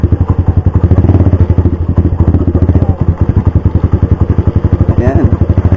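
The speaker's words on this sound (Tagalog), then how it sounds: "Ba't may ganitong motor sa ganitong kalsada?" Rusi Mojo 200cc motorcycle riding on a muddy rural road, its engine chugging loudly and steadily close by with a rapid rhythmic pulse and occasional clattering thumps.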